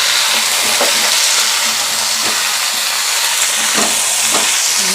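Food frying in oil in a pan that is scorched from an earlier batch of fritters, giving a steady, close sizzle and hiss throughout, with a few brief stirring clatters and no talk.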